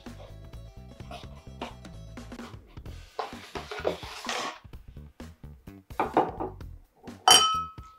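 Whiskey glasses from a men's subscription box being unboxed, with scattered glassy clinks, knocks and cardboard rustles close by, ending in a sharp bright clink.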